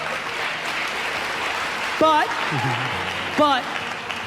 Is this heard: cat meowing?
no